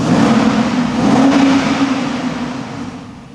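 A BMW X5 M550i SUV engine revs once, swelling to a strong mid-pitched roar and then easing off as the revs fall. The sound is close and loud with no voices.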